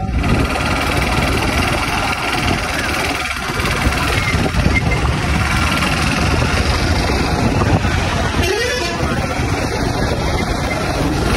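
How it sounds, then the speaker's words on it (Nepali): A scooter engine runs steadily and loudly while a man rides it, a continuous buzzing drone with wind rumble and traffic noise, and a voice speaks faintly over it. "दाजुले चाहिँ स्कुटी चलाउँदै हुनुहुन्छ।"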